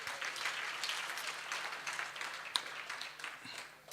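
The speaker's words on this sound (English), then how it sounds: "Let's give Nhlanhla a big round of applause" Audience applause at a bodybuilding championship night, a steady dense wash of clapping from a crowd filling the whole stretch at moderate level, with one sharper clap standing out near the end and no talking.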